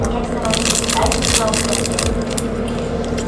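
Teeth bite into crispy Family Mart fried chicken at close range, giving dense crunching and crackling for a few seconds.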